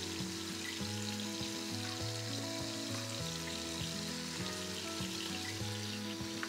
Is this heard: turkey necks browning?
yes